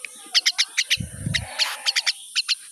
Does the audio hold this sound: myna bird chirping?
yes